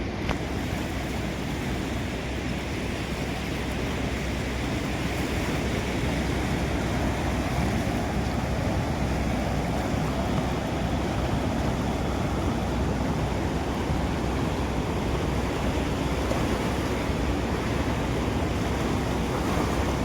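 Water released through the opened gates of the Hipparagi barrage on the Krishna river near Jamkhandi roars in a steady, dense broadband rush, continuous and loud throughout with no voices.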